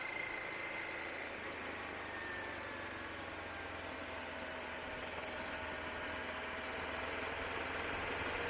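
Steady motorbike engine drone while riding in third gear along a high moorland road toward Tan Hill, a constant mid-low hum with wind rush, continuous and unbroken throughout, with no talking.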